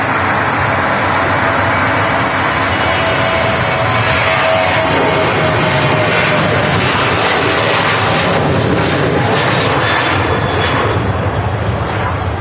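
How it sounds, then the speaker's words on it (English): A Jet2 Boeing 737 jet takes off from Manchester Airport, bound for Gran Canaria, its engines a loud, sustained roar that fills the whole stretch and rumbles steadily from start to finish. "And that aircraft heading out to Gran Canaria."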